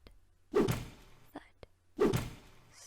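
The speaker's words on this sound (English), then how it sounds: "Thud." Two heavy, dull thuds land about a second and a half apart, each a deep booming impact sound effect from the video game For Mother Matron, with faint clicks between them.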